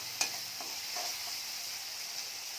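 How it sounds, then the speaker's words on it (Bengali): Spice paste of chili, onion, garlic, cumin, salt and turmeric sautéing for a snakehead fish curry, a soft steady sizzle with a sharp scrape of the spatula at the start and faint stirring after, no voices. "এখন কষাই নেবো মশলাটা।"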